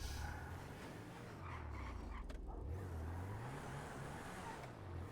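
A car drives in GTA V on a FiveM server, its engine a steady low drone with rising and falling revs that runs throughout at an even level and a moderate loudness.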